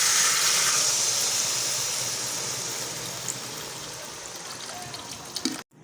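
Water is poured into a pan of cauliflower and potato curry, a steady broad hiss and trickle that holds for several seconds, eases off gradually, then cuts out abruptly near the end.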